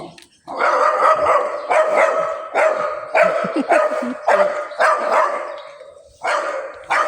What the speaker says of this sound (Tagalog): Pagpasensya nyo na yun, mag-ingay na aso